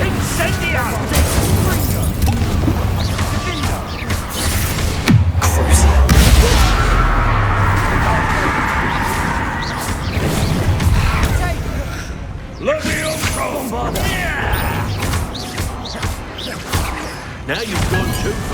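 Fiery Incendio spell blasts during a Hogwarts Legacy duel, with repeated bursts, whooshes and crashing impacts over continuous combat noise, loud and close, with voices speaking throughout.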